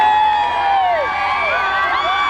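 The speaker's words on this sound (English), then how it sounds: "The crowd is absolutely going berserk." A huge crowd cheers and whoops loudly and continuously at the Adelaide Crows' 1997 grand final parade, with dense roaring voices and shrill shouts filling the air throughout.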